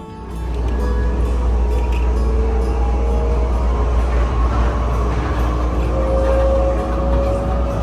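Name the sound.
airport inter-terminal shuttle train ride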